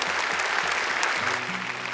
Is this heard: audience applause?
yes